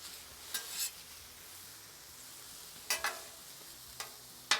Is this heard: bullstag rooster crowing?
no